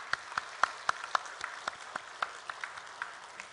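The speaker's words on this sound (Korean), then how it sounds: "우리 하나님께 박수 한번 영광 돌리겠습니다" Church congregation at Sunday worship clapping in a slow, fairly even rhythm, individual claps distinct and moderately distant over a steady room hiss.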